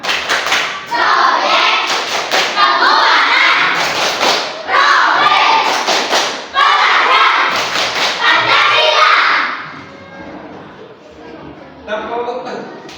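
Children in a classroom clap through the Tepuk P5 rhythmic chant, with loud, patterned bursts of hand claps and thumps mixed with chanting voices, then a quieter stretch with a few voices.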